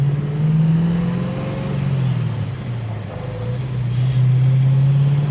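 A 1967 Ford Mustang's engine on a test drive, a loud, close, steady drone that rises and dips with throttle, settling lower and then climbing again as the car pulls along the road.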